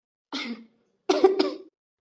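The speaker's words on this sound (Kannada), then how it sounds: "ಅಯ್ಯೋ ಕೆಮ್ಮಕತ್ತಾಳಲ್ಲ" A cartoon woman coughs, one short cough followed by a double cough, close and clear against silence.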